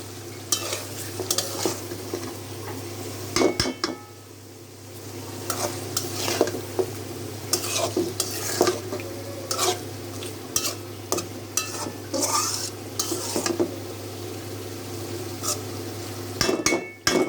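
Fish is stir-fried in oil and spices for a green banana and fish curry: a spatula scrapes and stirs the pan in irregular bursts over a constant sizzle and frying hiss, close and fairly loud, with no talk.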